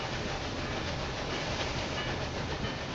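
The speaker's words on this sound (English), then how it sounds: "That's the new train." A train in the Railway Empire 2 video game runs with a steady, even rushing roar throughout, constant in loudness with no voices.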